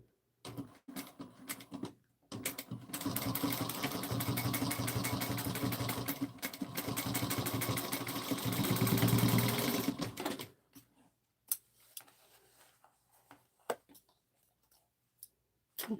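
A sewing machine runs in a sustained burst, stitching a pouch with thicker thread, its fast mechanical whirr lasting several seconds, bracketed by short clicks and handling noises.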